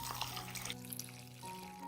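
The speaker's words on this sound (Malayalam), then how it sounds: "ഇനി ഇതിലേക്ക് കുറച്ച് വെള്ളം ഒഴിച്ചു കൊടുക്കാം" Water pours into a bowl of broken wheat, a faint, steady trickling splash that shifts slightly in tone as the bowl fills, heard alone at close range.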